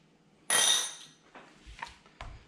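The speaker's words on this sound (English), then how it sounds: "The bolt just slides forward and out." The bolt of a Browning BAR Mark 3 rifle sliding forward and out during takedown: a bright metallic scrape and clink, then a few faint soft knocks and a last small clack, close and quiet.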